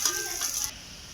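Onions tossed into hot oil over a wood fire at an outdoor winter picnic give a loud, bright sizzle for the first half-second, then drop to a quieter steady hiss.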